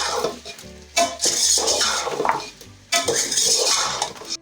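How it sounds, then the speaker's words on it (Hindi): A spoon clinks and scrapes around a bowl as chicken for biryani is mixed with Chinese salt, close and fairly loud, in uneven strokes with a pause partway before the mixing resumes. "इसे अच्छे से मिक्स कर लूँगी"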